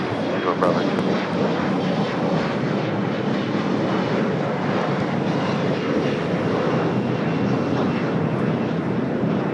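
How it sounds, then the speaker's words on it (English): A Lufthansa Boeing 787 Dreamliner departs LAX for Frankfurt, its jet engines giving a broad, loud, steady roar with some wind buffeting, while a voice talks and radio chatter runs underneath. "Lufthansa Dreamliner heading back to Frankfurt, heading up to the north side."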